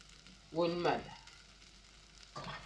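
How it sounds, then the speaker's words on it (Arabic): Rice, vermicelli, black pepper and salt stir-fried together in a pan: a short burst of sizzling and scraping, then a quieter stretch, with another brief flare of frying noise at the very end. "ونشوحه كويس برضو اهو بالفلفل كده وبالملح وبالشعريه والرز مع بعض اهو"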